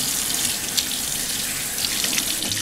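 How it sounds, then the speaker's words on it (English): Warm tap water runs steadily from a faucet into a sink while a face is rinsed of face wash, a continuous close hiss and splash with no talking. "then obviously rinse it off with warm water"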